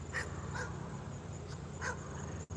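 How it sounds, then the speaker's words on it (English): A dog pants close by in quick, rhythmic breaths, a few sharper exhalations standing out against a steady background hum. "Dog that's afraid of his own shadow, I reckon."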